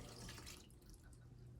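Water poured from a cup into a pan for a craft recipe, a soft steady splashing trickle lasting under two seconds, quiet and close with no talking.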